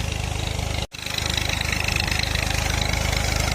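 A tractor engine idles nearby with a steady, rapid chugging pulse that continues throughout, broken only by a brief dropout near the start, in a rural village setting with no talking.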